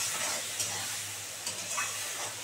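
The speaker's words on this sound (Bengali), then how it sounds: "ভালো করে এবারে মশলাটা ভালো করে কষিয়ে নেবো।" Spice paste being stir-fried with potatoes in a pan, with a dense continuous sizzle and a few soft scraping stirs, near and fairly quiet, with no talking.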